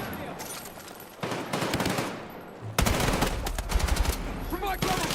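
Sustained automatic gunfire in Battlefield 6 pours out in dense rapid bursts with a brief lull, loud and continuous, with heavy booming impacts and explosions in the later stretch.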